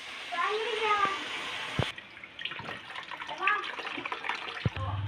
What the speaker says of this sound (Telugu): చింతపండు నీళ్ళు పోస్తున్నా